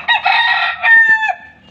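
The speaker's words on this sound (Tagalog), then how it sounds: "Tinitingnan ang mga alaga naming manok." A rooster crows loudly and close, a long strained call followed by a second shorter crow, with faint clucking of chickens in the background.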